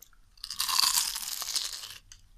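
Biting and crunching into a crispy fried spring roll (nem) filled with cashews, heard up close: a single burst of dense, crackling crunch lasting over a second against near silence.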